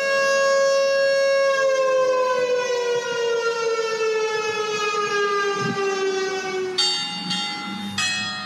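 A midday siren wails in one long, loud, sustained tone that slowly falls in pitch, and a few bell strikes break in near the end.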